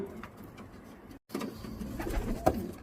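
Racing pigeons cooing in a breeders' loft, soft low murmuring calls repeating over a steady background hum, with a brief dropout midway and a slightly louder flutter near the end.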